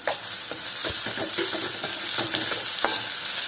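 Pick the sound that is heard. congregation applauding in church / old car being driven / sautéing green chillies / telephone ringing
sautéing green chillies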